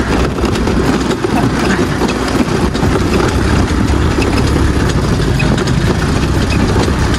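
A scooter engine idles close by, with a steady, loud, uninterrupted mechanical rumble and no change in pitch.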